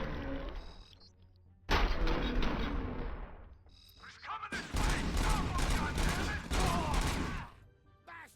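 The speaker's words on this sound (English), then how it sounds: "Now this is essentially just an LMG. Burst fire LMG." Burst-fire light machine gun in RoboCop: Rogue City, firing loud repeated rapid bursts with brief pauses between them, mixed with other game effects.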